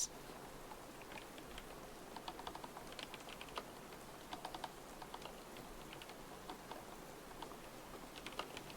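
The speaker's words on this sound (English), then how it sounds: "I like typing sounds as well." Soft, rapid typing on a quiet, non-clicky computer keyboard, close and gentle, with irregular light taps and brief pauses between bursts and no voices.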